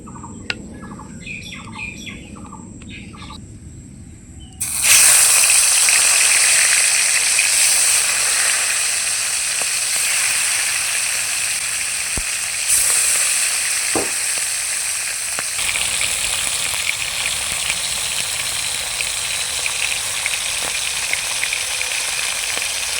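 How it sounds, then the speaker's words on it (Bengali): Pieces of chitol fish fry in oil in a pan, a loud, steady crackling sizzle that starts abruptly after a quieter opening and continues close up for the rest of the clip, with occasional sharp pops. "মাছ ভাজার তেলে আর একটু তেল দিয়ে দিব আর বাকি মাছগুলো একই রকমভাবে ভেজে নেব"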